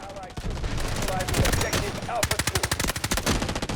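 Bursts of KC17 rifle fire in the shooter game Delta Force Mobile, loud and close, the shots quickening into a rapid, evenly spaced automatic stream toward the end.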